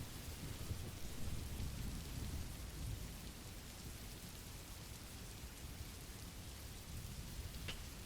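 Steady, dense rain pours down without a break, with a low rumbling undertone throughout and no voices.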